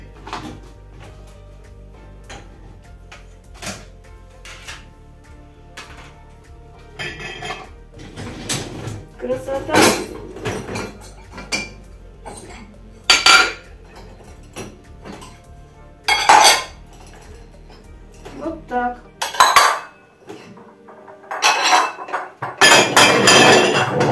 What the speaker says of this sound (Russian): Кастрюли моем, и сковородки, и ложки, чашки, все.